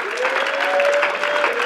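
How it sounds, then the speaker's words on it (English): A church congregation claps their hands together in a steady, close patter, with a sustained sung or held voice tone running underneath. "Now clap your hands if you believe it."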